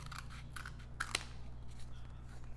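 Scissors snip through cardboard close by, a few quiet crunching cuts over a low background hum.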